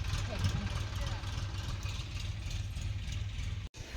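A tractor engine idles with a steady low rumble and clatter, close by, while someone talks over it.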